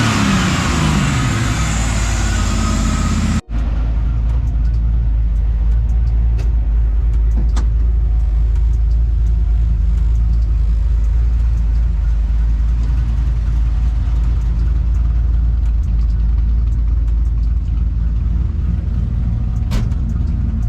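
A classic car fitted with custom Prius electric steering has its engine running, a loud steady low rumble close by with a slight rev, preceded by a brief louder burst before it settles.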